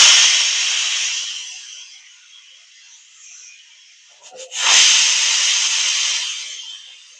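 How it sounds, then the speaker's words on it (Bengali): Hands rubbing ghee into flour for chana dal paratha dough, a close, soft hissing rustle that fades, pauses with a brief scuff, then returns steady and bright. "ভালো করে ঘিটা ময়দার সাথে মিশিয়ে নিতে হবে।"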